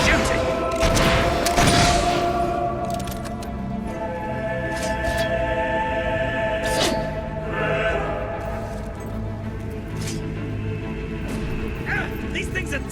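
Gunfire in a fight from the video game Fable 3, a dense barrage of shots and booms early on, then steadier firing and impacts under a constant music-and-effects bed, with people talking over it.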